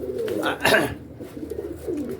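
Pigeons cooing close by at a pigeon seller's, soft throaty coos rising and falling over a couple of seconds, with a faint voice in the background.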